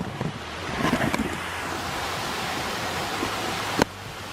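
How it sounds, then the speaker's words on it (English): A small waterfall in autumn at Mino-o, Osaka, gives a steady broadband rush of falling water, moderately loud and continuous, with some wind buffeting on the microphone and a brief bump near the end. "There's the little waterfall."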